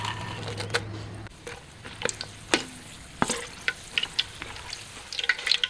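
Kaffir lime leaves and chili frying in hot oil give a steady close sizzle with crackling pops and a few stirring scrapes, fairly loud and without talk.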